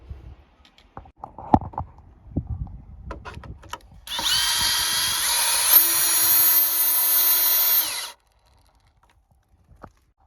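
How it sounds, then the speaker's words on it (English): A power drill whirs steadily for about four seconds while countersinking a screw hole in wood during porch and stair construction, preceded by scattered close knocks and handling taps, then stopping abruptly. "just give it a little countersink like that, and that helps also"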